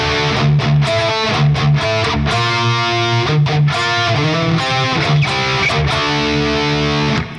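Distorted electric guitar slowly playing a riff, chunky palm-muted chugs alternating with ringing chords, loud and close throughout with no talk.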